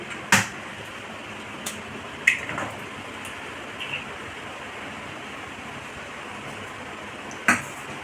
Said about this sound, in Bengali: এই ডিমগুলো ফাটিয়ে নিচ্ছি